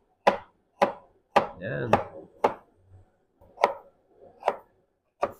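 Pork ribs chopped on a cutting board, sharp heavy knife strikes landing one by one in an uneven rhythm, close and loud, with someone talking briefly between cuts.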